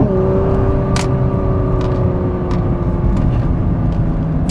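A 2021 Nissan GT-R Premium with a turbocharged 3.8-liter V6 accelerating in second gear, heard from the cabin as a loud, continuous engine drone with a rising whine and a few brief clicks.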